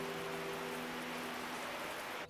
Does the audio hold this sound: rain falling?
yes